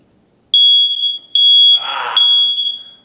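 A newly installed smoke detector sounds its test alarm: a loud, piercing high-pitched electronic beep in three long pulses, close by, with a short burst of voice or movement noise in between.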